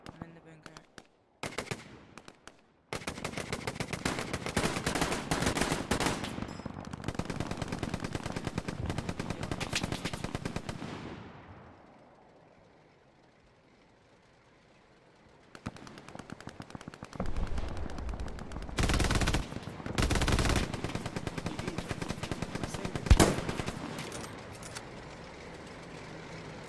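Bursts of automatic and rifle gunfire in the World War II shooter game Hell Let Loose, loud and sustained, dropping to a near-silent lull before heavy shots and blasts resume, with a voice speaking briefly.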